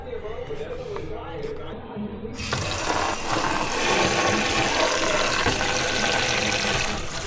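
Water runs from a kitchen tap while salmon is washed, a steady close splashing rush that grows fuller after a couple of seconds, with someone talking over it.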